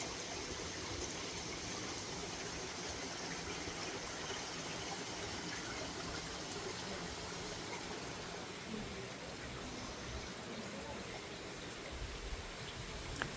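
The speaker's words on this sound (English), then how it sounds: "there's imported Chinese rock that has water flowing down it and is so peaceful and so beautiful" Water running steadily down imported Chinese rock in a garden, a continuous soft broadband rush and trickle, moderately close and even throughout, with no voices.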